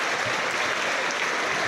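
Football crowd at a Newport County match applauding after a goalless draw, steady dense clapping from many people in a stadium.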